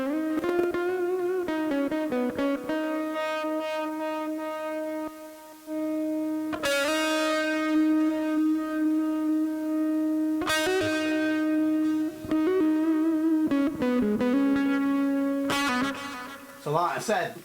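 A Harley Benton SC-400 LP-style electric guitar plays lead lines with its tone controls turned down, giving sustained, slightly overdriven notes and bends in a loose melodic phrase, alone and close.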